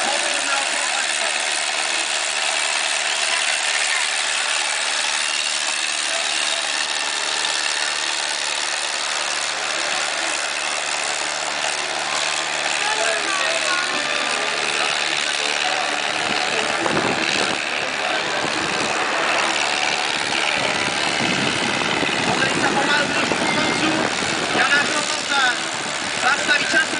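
A tractor engine runs steadily through a farm driving contest, a continuous mid-to-low drone that grows rougher and louder toward the end, with a voice talking over it throughout.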